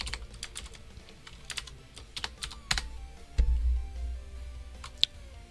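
Keys tapped on a computer keyboard in quick, uneven bursts of clicks, close and fairly quiet, with a low background hum beneath.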